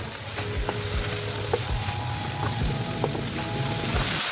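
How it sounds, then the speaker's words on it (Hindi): Chicken fries with red chili and paprika powder in a pan, an even close sizzle with rhythmic scraping stirs and faint metallic clicks, no talking. "1 चम्मच हम पेपरिका पाउडर शामिल करेंगे इसमें और इसे अच्छी तरह से भूनेंगे"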